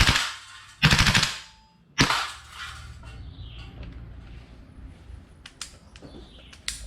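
A GHK Colt Mk18 Mod1 gas blowback airsoft rifle fires two loud close bursts, the bolt then locking back on an empty magazine, followed by quieter outdoor ambience with faint birds.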